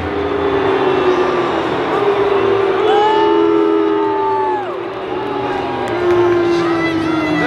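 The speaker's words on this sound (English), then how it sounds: "Brisbane about to run out, they're getting booed" A large stadium crowd at an AFL preliminary final, Brisbane versus Carlton, booing as Brisbane players run out, a sustained loud roar with long drawn-out tones swelling and falling.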